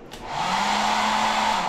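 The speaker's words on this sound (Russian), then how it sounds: "Фен в хорошем состоянии и также работает очень хорошо" A hair dryer switches on in a small hotel bathroom in Hurghada, Egypt, rising within a fraction of a second to a steady, close, loud blowing whoosh with an even motor hum that holds to the end.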